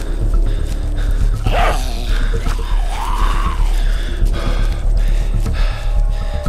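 A dog companion in Into the Dead 2 gives a few loud yelps and whimpering barks over a constant rumbling game backdrop.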